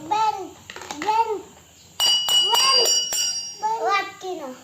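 A bright metallic strike rings out with a sustained tone as a steel bowl is hit, between bursts of someone talking.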